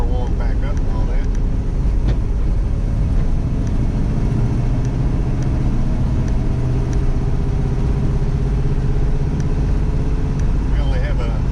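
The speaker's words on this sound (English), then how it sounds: "Kind of getting the car warmed back up and all that." A 1970 Dodge Challenger with a Gen 3 Hemi swap, a spool and 2.76 gears drives along with a steady, loud low engine drone and road rumble throughout, wind buffeting the microphone.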